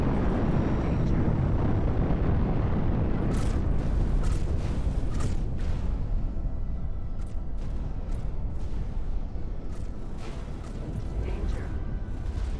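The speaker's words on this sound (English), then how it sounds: "They're blast mortaring my turrets." Mortar blasts hitting turrets in the space game X4, heard as a dense rumbling barrage of booms with scattered sharper impacts, loud and continuous throughout.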